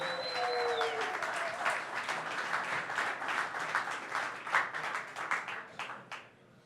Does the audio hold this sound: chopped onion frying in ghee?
no